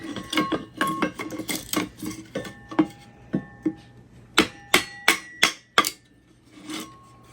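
Oak pallet wood is split on a metal kindling splitter, giving a run of sharp metallic clinks and knocks, with several louder ringing strikes near the end.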